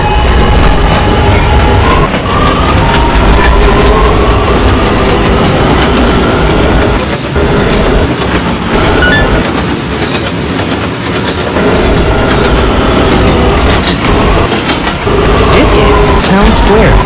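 An R211A subway train on the A line in a Roblox game runs continuously with loud rumbling and rhythmic clickety-clack from the wheels, steady throughout with an announcement-like voice faintly present.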